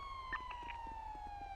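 A police car siren in the GTA video game wails steadily with a slowly falling tone, quiet and brief, over low background rumble.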